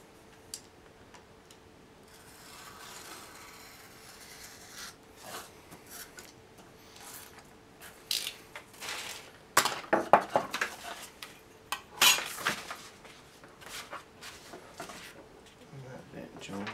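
Craft knife slicing the margin off a printed paper template for a Batsuit cowl, a run of short crisp scraping cuts and ticks close by, loudest toward the end, with quiet room hum beneath.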